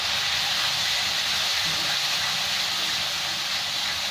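Spice paste of ginger, tomato, cumin, coriander, chili powder and turmeric frying in oil in a pan for Bengali rui fish curry, a steady loud sizzling hiss throughout, close and unbroken.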